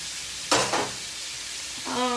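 Onions dropped into a hot frying pan for a lamb chop dish, a brief burst of sizzling with a scrape of stirring over a steady background hiss, then a short tonal clink near the end.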